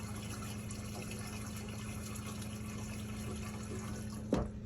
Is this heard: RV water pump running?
yes